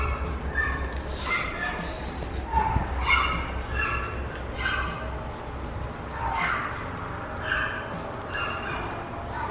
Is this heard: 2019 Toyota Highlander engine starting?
no